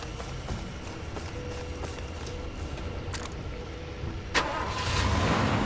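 A car engine starts in the Far Cry 2 video game: a sharp click and crank, then a steady, louder idle rumbles on over the constant background noise of the game.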